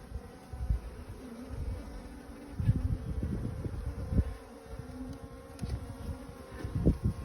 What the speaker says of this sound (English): Getting into our first frame with actually some bees on there.